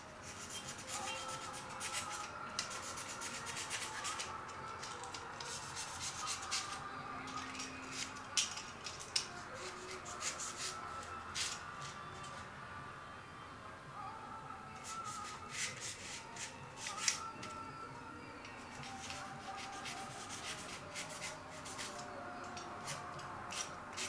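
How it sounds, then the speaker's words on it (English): Steady rubbing and scraping of sandpaper over a surface, continuous back-and-forth strokes with small ticks and knocks, close but quiet, going on alone without talk. "I just sand that."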